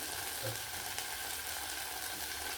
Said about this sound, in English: Just mix everything together